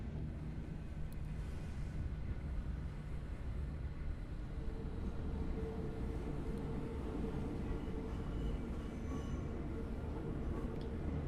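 Steady low rumble of a train in the game Subway Sim 2, a continuous heavy rolling drone with faint squealing tones, constant and close throughout with no talking.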